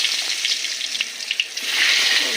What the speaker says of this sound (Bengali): ভাজা ভাজা হয়ে গেলে সব একে একে তুলে নেব।